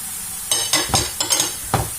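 Tomato concentrate and spices are stirred in a sizzling pan, a steady close fry hiss punctuated by about five quick scraping strokes of a spoon.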